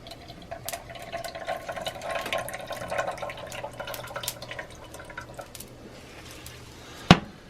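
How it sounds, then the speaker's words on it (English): Excess oil drained from cooked ground beef in a cast iron pan, a faint, steady trickle with soft drips and small scrapes, ending in one sharp metallic clank. "Now let's try to drain this without making a huge mess. I just want to get rid of all the extra oil."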